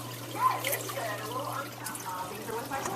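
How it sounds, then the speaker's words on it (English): Water returning from a wet/dry filter trickles and pours into an aquarium tank, a soft continuous splashing over a constant low pump hum, with faint talk mixed in. "There's the water returning in the tank."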